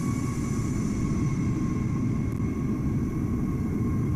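Airliners at Amsterdam Schiphol in Microsoft Flight Simulator, with an A320 nearby, in cloudy weather, give off a steady, loud jet-engine rumble with faint tonal whine that holds unchanged for the whole stretch, with no talk.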